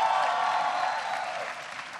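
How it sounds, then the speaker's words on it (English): A large audience applauds steadily after a request to honor a congressman and a mayor at a Salvation Army center in Camden, New Jersey, a dense, continuous wash of clapping that fades slightly toward the end. "Give them all a big round of applause."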